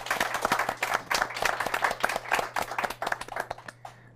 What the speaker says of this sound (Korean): 오늘 너무 감사한데 박수 한번.